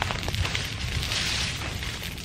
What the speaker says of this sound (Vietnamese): Ui, nhìn lửa cháy to ấy kia,